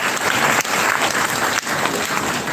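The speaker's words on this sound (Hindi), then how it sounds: "जोर से ताली देंगे" An audience claps loudly at a motivational session, a dense, continuous burst of applause lasting a couple of seconds with no pauses.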